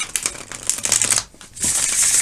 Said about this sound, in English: I've pre-shuffled, but I do like to shuffle a little more.